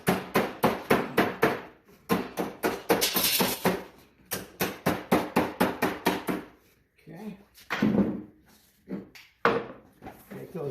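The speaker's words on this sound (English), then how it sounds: "Then I take a hammer. I want to get a sharp edge across here." A hammer strikes the edge of a Leaftek aluminum rain gutter leaf guard in quick rhythmic bursts of sharp, close metallic taps, with pauses between runs and a brief spoken voice near the end.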